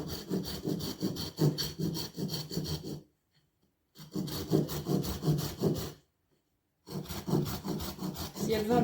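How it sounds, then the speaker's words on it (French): Hand saw cutting green wood logs in three bursts of steady back-and-forth rasping strokes, close and fairly loud, separated by short silent pauses. "Un petit truc pour scier les bûches."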